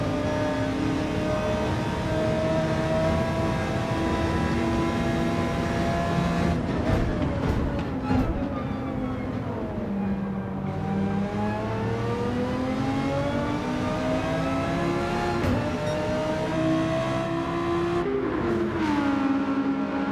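Race cars in a racing video game, a Dodge Viper with an Audi R8 tight on its rear bumper, engines droning and revving continuously with rising and falling pitch through gear changes, loud and steady throughout.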